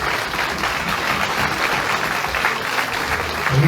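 A crowd at a carnival festival applauds steadily and fairly loudly, a dense continuous wash of clapping that swells slightly at the very end.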